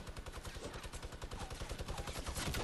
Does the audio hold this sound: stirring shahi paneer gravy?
no